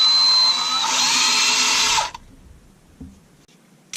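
A power drill enlarges a hole in a Husqvarna 181 chainsaw's oiler, giving one loud, close, steady whining burst for about two seconds that cuts off abruptly, followed by near silence and a few faint clicks.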